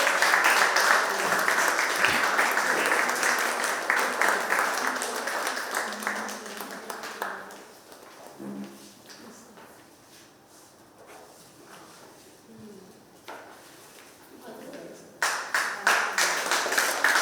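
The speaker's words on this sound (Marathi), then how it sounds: "टाळ्या जोरात झाल्या पाहिजेत." Audience at a photography contest award felicitation ceremony claps for a prize winner, a dense burst of applause that fades to sparse scattered claps, then swells again at the end.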